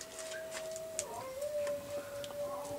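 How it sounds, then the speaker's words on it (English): A dog howls in a long, steady, slightly wavering tone that holds for several seconds, with faint higher sounds flickering behind it. "The dog's singing!"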